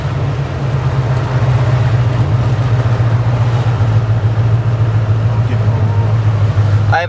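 Engine of a 1929 Ford Model A roadster pickup running as it drives, a loud, steady low rumble heard from inside the cab, continuous and unbroken with a brief clatter at the very end.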